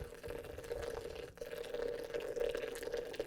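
Hot water pours slowly into a French press for coffee, a faint steady trickle with a brief break midway and no voices.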